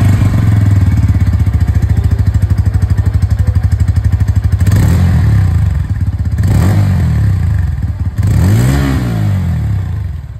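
A Bajaj Pulsar N-series motorcycle with an underbelly exhaust idles with a steady, close exhaust thrum, then revs up and falls back several times in loud, rising and falling bursts.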